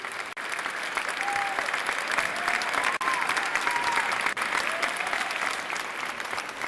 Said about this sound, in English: Greeted by strong applause